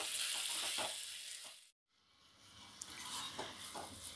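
Yogurt added to peas and tomatoes in a pan sizzles and fries with a loud, steady hiss, cut off for a brief moment and then resuming, with faint stirring scrapes.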